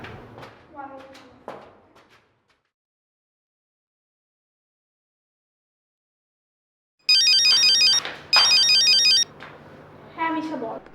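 A telephone ringtone sounds loudly in two electronic bursts, with a short gap between them, after a long silence. People talk before and after the ringing.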